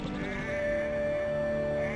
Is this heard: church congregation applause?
no